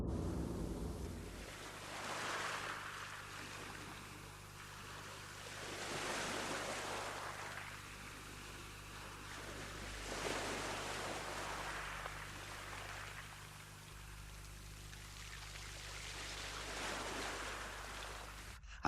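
Sea waves rolling off the Farne and Bamburgh coast, slow repeated swells of surf rising and falling about every four seconds, with wind buffeting the microphone and a low steady hum underneath.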